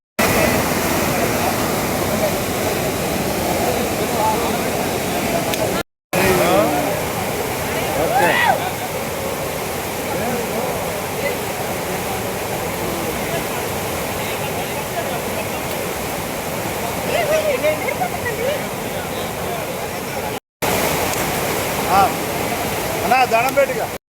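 Godavari irrigation water rushing through a channel at Wyra, Khammam, a loud, steady broadband roar that runs unbroken apart from two brief cuts, with voices faintly beneath it.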